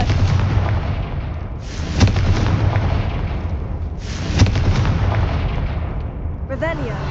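Repeated Confringo fire spell blasts in Hogwarts Legacy: loud, booming explosive bursts with thick rumbling bodies, two sharp peaks about two seconds apart over continuous battle noise, ending in a bright shimmering magical tail.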